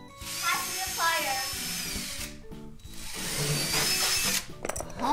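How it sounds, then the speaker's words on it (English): A power drill whirs in repeated bursts, its motor pitch rising and falling, with people talking over it up close. "Give me a drill."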